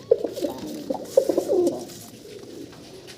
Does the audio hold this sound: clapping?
no